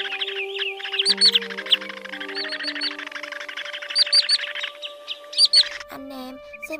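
A recorded white-bellied greenshank call sounds as loud, clear, repeated whistled notes in quick bursts, with a low steady hum beneath and a brief different noise near the end.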